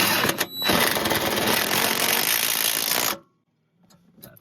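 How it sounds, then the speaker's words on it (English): A power drill drives screws into an under-seat safe installed in a Tesla Cybertruck, whirring loudly and steadily for about two and a half seconds before cutting off into near silence. "It's always a good idea to hand tighten them first before you take the drill"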